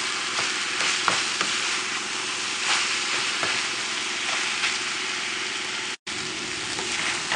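Shrimp and broccoli with garlic fry over a high flame, a steady loud sizzle with occasional stirring clatter throughout.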